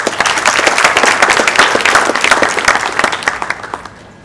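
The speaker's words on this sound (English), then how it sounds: "So please help me congratulate the organizing committee that has put this together. Hearty clap for them." An audience at an IEEE event gives a hearty round of applause for the organizing committee, dense clapping that stays strong before thinning out and fading near the end.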